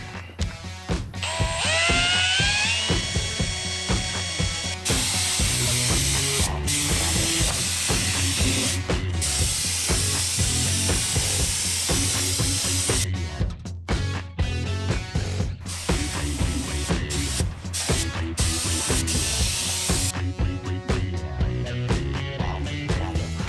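Spray paint hisses onto a Kenworth K100 cabover truck in long close bursts separated by short pauses, loud over a steady musical backdrop, with no talking.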